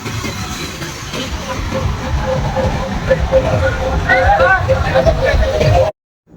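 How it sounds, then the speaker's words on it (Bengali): A rumbling amusement park ride train clatters along while a crowd, mostly girls, shouts and screams excitedly over it, loud and continuous, cutting off abruptly at the end. "ট্রেনে উঠে চিল্লাইছে অনেক জোরে জোরে ভাই মেয়েরা"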